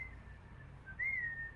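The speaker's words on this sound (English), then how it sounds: "I just whistled" A person whistles a faint, short rising-then-falling note indoors, heard alone over a low background hum with no talking.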